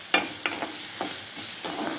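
Carrot chutney ingredients with tamarind fry briefly in a pan, giving a soft steady sizzle broken by a few separate scraping stirs of a spoon.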